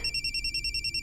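A telephone rings with a steady electronic trill, repeating short pulses, loud and close, with no voices.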